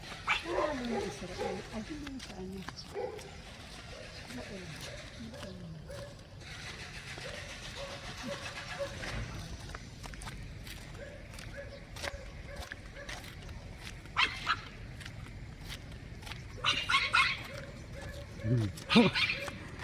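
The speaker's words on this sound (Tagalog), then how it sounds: "Nag-iingay na naman si Kilikili." A dog barks and whimpers in short, irregular bouts, joined by several close, sharper yelps near the end, while people talk throughout.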